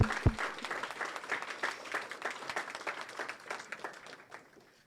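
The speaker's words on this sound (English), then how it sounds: "let's just give one more round of applause for all of our teams" An audience claps for the teams at a culinary engineering competition, with dense, sustained applause and a few sharp nearby claps that gradually fade toward the end.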